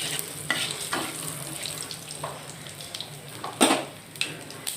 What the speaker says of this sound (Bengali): দিয়ে দেবো তেজপাতা, দিয়ে দেবো শুকনো লঙ্কা